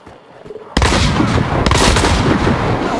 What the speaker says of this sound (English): Flashbang out, get ready.